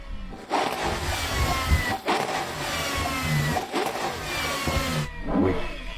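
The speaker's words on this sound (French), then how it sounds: "Al, montre-nous le son de la Ferrari." A Ferrari Purosangue's engine revving repeatedly, several loud surging blips separated by short dips, close by and without speech.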